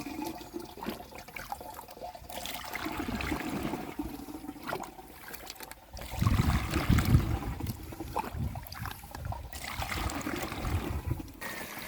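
Water pouring into a spray pump tank while mixing fertilizer for a sunflower field, a continuous splashing and trickling rush that swells louder midway, close, with no talking.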